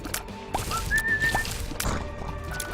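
A boss named Mo in The Binding of Isaac: Afterbirth gives a short rising whistle in the middle of the clip, amid game sounds and a few sharp thwacks, with no talking.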